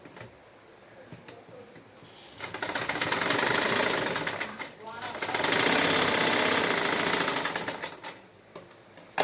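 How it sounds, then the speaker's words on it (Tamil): Sewing machine stitching a blouse shoulder: two long, fast rattling runs of stitching, each several seconds long, separated by a brief pause, with quieter clicks before and after. "ரெண்டு தையலாக விட்டுக்கோங்க"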